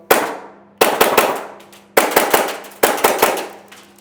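Novritsch SSP28 gas airsoft pistol firing semi-auto, loud sharp cracking shots in quick bursts of three to four, each group followed by a brief pause, with a faint steady hum underneath.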